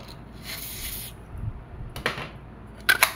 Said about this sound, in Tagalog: Spray lang yun sa bulb.